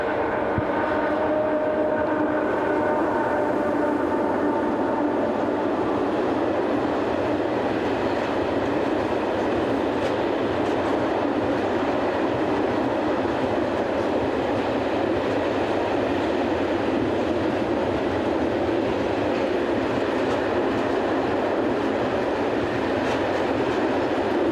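Paired locomotives haul a westbound train of empty coal wagons on a European railway, a steady loud rumble and roar of engines and rolling wheels that holds unbroken throughout, with faint clatter of passing cars.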